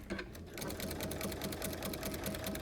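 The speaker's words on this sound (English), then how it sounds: "you can see just how easily the walking foot feeds our fabric right through the machine" A sewing machine with a walking foot stitches cuddle fabric at a half-inch seam, running as a steady, rapid mechanical whir with a fast regular pulse, close and continuous with no talking.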